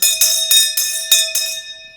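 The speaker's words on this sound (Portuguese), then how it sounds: "Vamos aqui ao badalo das Caldas." A ringing bell struck about six times in a steady rhythm, each loud metallic clang sustaining and overlapping the next before a fading tail, used to open a round of quick questions in an interview in Caldas da Rainha.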